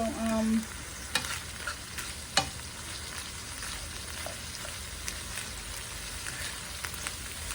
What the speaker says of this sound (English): I'm mashing it with the fork, you guys.